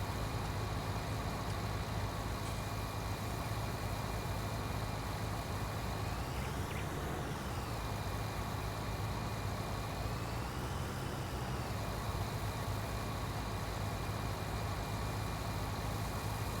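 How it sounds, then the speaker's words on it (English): A tractor in Farming Simulator 19 idles with a steady, loud low engine drone that runs without a break, joined midway by brief rising and falling electronic tones, with no voices. "It is a really nice tractor, this one."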